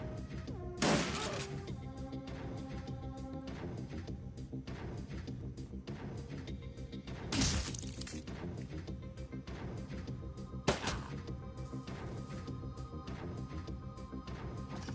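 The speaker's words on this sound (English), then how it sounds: "Shooting a troll with a pistol." In Shadowrun: Dragonfall, a pistol fires at a troll: three sharp, widely spaced shots crack over a quiet, steady musical background.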